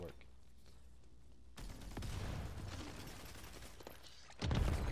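Gunfire from a weapon in the Rogue Company video game, with bursts of sharp shots and mechanical clatter over a quiet background, the loudest burst coming near the end.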